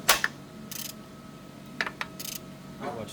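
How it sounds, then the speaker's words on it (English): A failed cam phaser on a 2018 Ford Expedition engine snapping as the crankshaft is turned by hand, giving a few sharp metallic clicks and ratchet-like snaps spread over a few seconds, close and fairly quiet. "gear wind up and snap"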